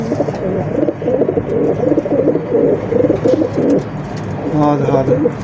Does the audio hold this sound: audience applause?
no